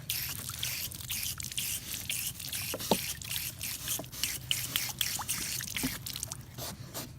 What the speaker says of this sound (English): Here's your water spigot.